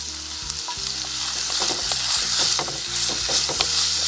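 Sliced onions, green chilies and curry leaves for a Kerala fish curry sizzle loudly and steadily in a frying pan, with crackling pops and the scrape of stirring throughout, close up and without speech.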